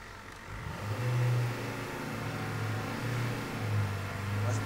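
A car engine is revved several times in short bursts, its note rising and falling over a steady idle, close by and moderately loud.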